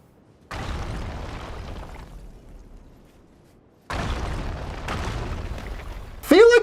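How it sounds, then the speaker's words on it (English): Loud bursts go off in Elden Ring, a thick rumbling blast fading over about two seconds, then a second heavy roar after a pause, and a sharp rising tonal effect cuts in at the very end. "Why do things just keep randomly exploding?"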